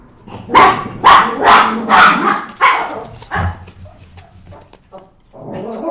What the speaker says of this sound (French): Ah, mon chien.